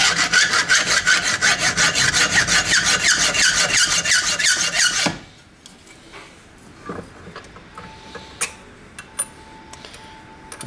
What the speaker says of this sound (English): So now I need to run a hacksaw through them.